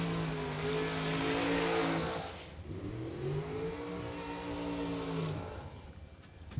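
A dragster launches and accelerates hard at a drag racing season opener, its engine screaming with rising harmonic tones. The engine is loud and close, then drops briefly before a second rising pull, with faint crowd noise behind.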